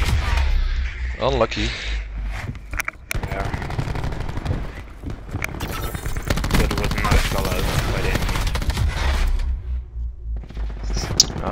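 Rapid gunfire from a Call of Duty Hardpoint match, with bursts and automatic fire running throughout the clip beneath an excited commentator's voice.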